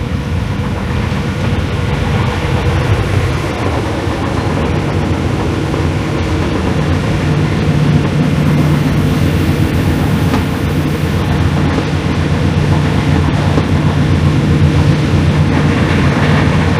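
Inside an ex-DB passenger car on train D19781 from Salzburg Hbf to Wels, a loud, constant rolling rumble fills the coach, with wheel-on-rail drone and a low steady hum throughout and no voices.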